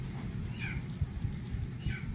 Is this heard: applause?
no